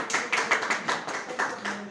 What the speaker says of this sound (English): All students clap to him.